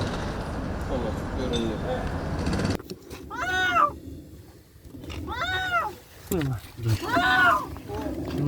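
A cat trapped inside a buried underground electrical cable pipe gives several loud, drawn-out distressed meows at close range, with a muffled, rumbling stretch of noise before them and people talking nearby.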